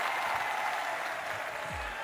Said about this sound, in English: Can we hear a round of applause for him?